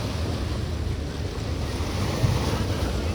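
Krishna river floodwater rushing through Prakasam Barrage, a loud continuous broadband roar of churning water with heavy wind buffeting the microphone, unbroken for the whole stretch.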